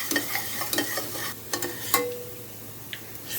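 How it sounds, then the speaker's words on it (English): Julienned ginger and whole spices are stirred in sizzling ghee for a Kashmiri chicken gravy, with faint frying hiss under scattered scraping spoon strokes and clinks against the pan, quiet and close, without speech. "Give it a good stir and we just wait for 2 to 3 minutes so that it becomes soft."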